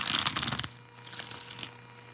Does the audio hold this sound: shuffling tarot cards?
yes